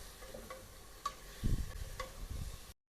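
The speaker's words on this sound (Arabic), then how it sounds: "واعطيها حمسة بعد. خليها تاخذ من التتبيلة" Chicken sizzles in a red kabsa marinade in a pan, a steady faint frying hiss with a few light ticks and a stirring scrape midway, with no voices.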